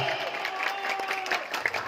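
Steady applause from a crowd after a kentongan (bamboo slit drum) group's performance, a dense wash of clapping that holds evenly throughout with no pauses.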